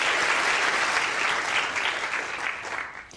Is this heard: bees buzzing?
no